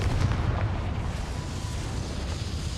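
A Confringo fire spell explodes in the Hogwarts Legacy video game, a loud sustained booming blast with heavy low rumble and crackling that fills the whole moment without fading.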